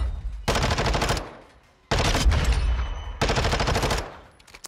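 A submachine gun in a shooter video game fires three sustained full-auto bursts, each about a second long and separated by short pauses, loud and close, with the rapid rattling shots cutting off sharply and fading into a brief tail.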